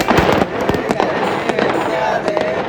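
Firecrackers burst at a celebration, a rapid irregular string of sharp cracks and pops, loud and close, with voices mixed underneath.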